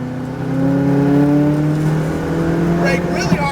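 McLaren 570 GT4 race car engine climbing steadily in pitch after an upshift, a loud sustained in-car drone with a brief shift blip near the end, a voice speaking over it.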